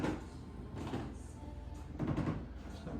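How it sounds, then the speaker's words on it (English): Old wooden floors creak and groan underfoot inside an old building, a few drawn-out creaks at moderate loudness with faint background murmur. "The floors are really creaky in these old buildings."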